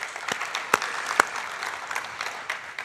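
Scattered applause at a graduate research competition final, a few distinct sharp claps standing out over a faint, steady background of more distant clapping, with no talking.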